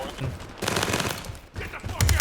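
Beryl M762 rifle fire in the video game World War 3, heard as rapid, dense bursts of automatic gunfire, loud and close, with a brief pause in the middle before shooting resumes.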